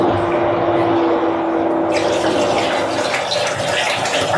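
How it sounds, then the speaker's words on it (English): Steady rushing of water pumped out by a submersible utility sump pump, a continuous hiss and gush with a constant mechanical hum underneath. "Just a lot of water coming out of there."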